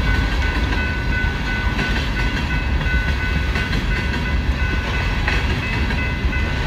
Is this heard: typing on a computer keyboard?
no